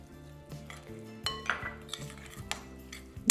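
A spoon scrapes and clinks against a bowl while chimichurri is stirred together with olive oil and lime juice, with soft irregular taps and clicks close by and no talking.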